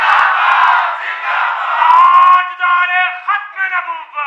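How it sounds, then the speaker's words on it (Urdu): A crowd at a religious gathering loudly shouts a slogan together, the massed voices sustained and blaring, rising and breaking into several chanted pulses toward the end. "اب ذرا مجاہدوں کی طرح کوئی جوان نعرہ بلند فرمائے"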